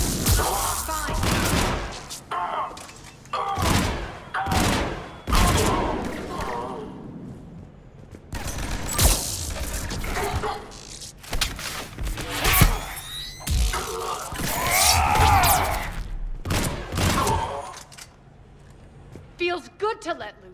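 Firefight in Mass Effect 3, bursts of rapid gunfire and thuds coming in repeated clusters between pauses, loud and close, with characters speaking throughout.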